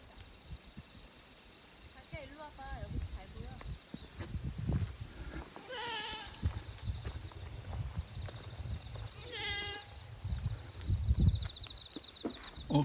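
Goat bleating in a rural farmyard beside a grape vineyard, two goats present with only one calling, its odd voice sounding almost like speech; a couple of short bleats rise over insect chirping and outdoor noise while people talk nearby.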